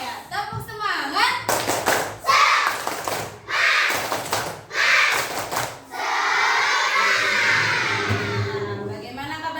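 Schoolchildren in an elementary school classroom perform a rhythmic spirit clap, bursts of loud group clapping mixed with chanting voices, ending in a sustained stretch of crowded child chatter and claps.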